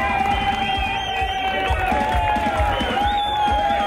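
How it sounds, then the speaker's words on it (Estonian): An outdoor audience at a motorcycle rally meeting cheers and claps, a continuous crowd roar with scattered whoops, while a steady tone and an announcer's voice run over it. "Aplaus Veli-Matti"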